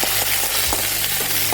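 Curry leaves frying in hot oil with chillies, a steady close sizzle broken by a few soft pops and crackles, no voices.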